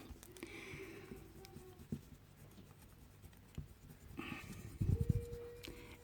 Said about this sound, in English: I get the biggest ball of my embossing tool and I just rub over the petals like that.